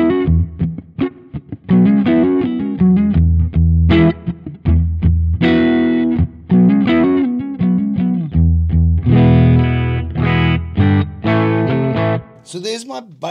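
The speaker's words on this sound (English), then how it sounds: "So there's my basic sort of edge of breakup with a cab and some reverb." An electric guitar plays chords and single-note phrases through a Sonicake Matribox 2 edge-of-breakup preset with cab simulation and reverb, lightly driven and ringing out alone with short pauses.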